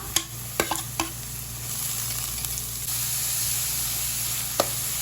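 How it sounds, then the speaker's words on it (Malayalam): Sliced onions frying in a pan for Gobi Manchurian, with a steady sizzle and a few sharp clinks and scrapes of stirring, close and fairly loud, no talking. "ഉള്ളിയൊക്കെ നന്നായിട്ട് ചുവന്ന് വരട്ടെ. അതുവരെ ഒന്ന് ഇളക്കി കൊടുക്കാം."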